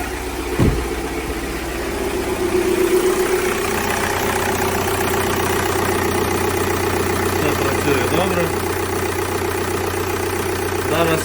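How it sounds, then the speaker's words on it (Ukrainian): A Volkswagen Passat B6 with a 2.0 TDI pump-injector diesel engine, idling just after starting following engine mount and timing belt replacement: a steady, close, loud diesel idle with a low vibrating hum and a faint tonal whine. "Машинка завелась."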